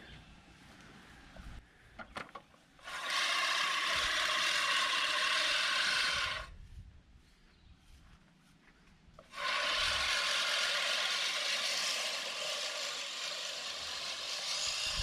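A Scotts manual reel push mower cuts dry grass in two long, loud whirring passes of spinning blades, separated by a quieter pause in the middle.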